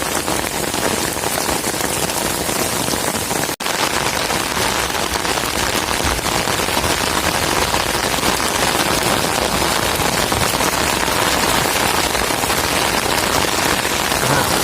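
Heavy storm rain pours down steadily in a dense, loud hiss of drops striking surfaces, continuous and close, with one sharp knock partway through and no talk.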